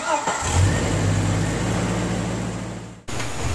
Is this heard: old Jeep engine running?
yes